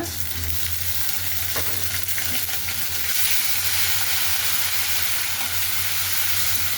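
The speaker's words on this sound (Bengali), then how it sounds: "একটু তেলের উপর ভাজা ভাজা হোক।" Garlic and onion paste fries in hot oil, giving a steady close sizzle and hiss with occasional stirring scrapes throughout.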